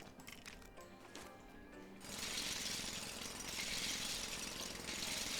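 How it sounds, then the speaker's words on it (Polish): A jackhammer in the video game LEGO Worlds starts after a quieter opening, then rattles in a rapid, steady mechanical burst that stays loud and continuous to the end. "Dajcie mi ten młot pneumatyczny teraz."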